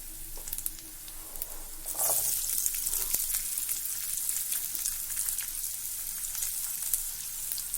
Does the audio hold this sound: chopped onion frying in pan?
yes